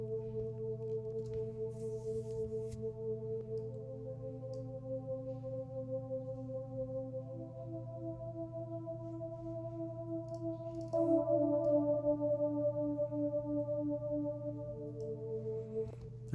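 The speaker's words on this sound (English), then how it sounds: "I used the XS Sweet and Mellow pad." Sustained chords from the u-he Diva synth's XS Sweet and Mellow pad play for a lo-fi chill beat, soft and mellow, with held notes shifting to a new chord partway through and no voices.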